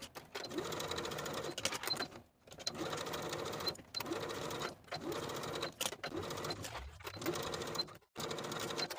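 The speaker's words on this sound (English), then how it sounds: "Sew the ruffle to the bodice from one side to the other with a 1/2 inch seam allowance" A sewing machine stitches a ruffle onto a bodice with a half-inch seam allowance for a boho top, running in steady bursts of whirring stitches that stop briefly about every one and a half seconds.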